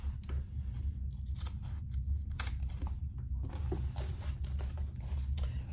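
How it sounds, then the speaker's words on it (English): Scissors snip through the excess length of a zipper while a waist pack is being sewn, a few quiet crunchy cuts close by over a low background hum, with no talking. "now I'll cut off my excess zipper."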